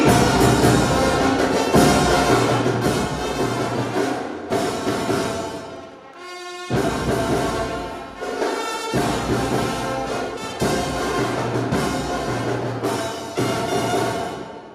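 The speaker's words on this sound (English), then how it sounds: "brass band, one sound for every comrade in this press, please." A brass band plays loudly and steadily at a press week event in Akwa Ibom, with full sustained chords, a brief pause near the middle, then the music resumes strongly to the end.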